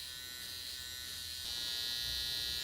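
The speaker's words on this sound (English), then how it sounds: "We're going to use our trimmer inverted to punch a line in" An electric beard trimmer buzzes steadily, held inverted while shaping a beard line, a close, continuous high-pitched drone that grows slightly louder partway through, with no speech.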